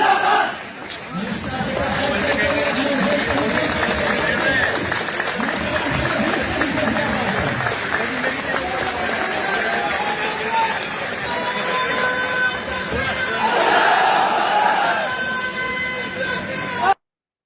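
A crowd in Bannu chanting slogans involving police and army: a dense, loud mass of voices shouting together continuously, with horn-like tones and rising calls layered on top, heard up close.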